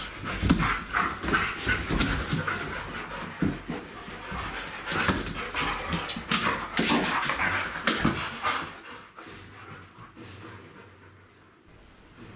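Czechoslovakian wolfdogs play roughly beside a litter of 19-day-old puppies, with loud panting, scuffling, whimpers and occasional yips close by. The noise settles toward the end.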